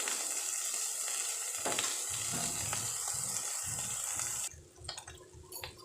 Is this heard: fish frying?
yes